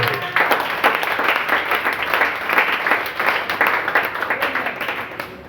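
A church congregation applauds in steady, dense clapping that holds evenly throughout without any voices standing out.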